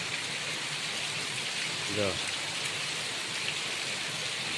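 Steady downpour of heavy rain on a farm, flooding the fields, fills the air with a broad hiss; a short voice briefly rises midway over the noise.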